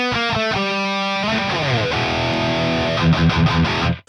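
An electric guitar through an overdrive pedal into a Mercuriall 6160 III amp simulation of a Peavey 5150 plays chords and single notes with a gritty, overdriven tone, ringing out before a sudden stop.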